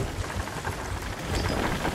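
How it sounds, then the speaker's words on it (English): Storm in the pirate video game Sea of Thieves: dense, steady rain with a low rumbling undertone of thunder, filling the scene continuously without any voices. "We're in the fucking storm."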